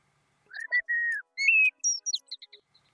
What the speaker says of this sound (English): That's the blackbird. That's the one.